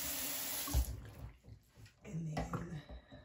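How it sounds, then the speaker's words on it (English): A bathroom tap runs while someone splashes water onto their face. A steady rush of water comes first, then a sudden splash, followed by softer dripping and sloshing. "So what I do is I just wet my face a little bit."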